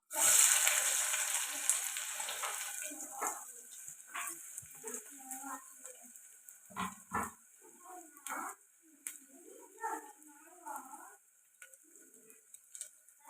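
Onions and green chillies sizzle loudly as they hit hot oil in a pressure cooker, the sizzle fading to a softer fry broken by intermittent scraping and stirring clatter.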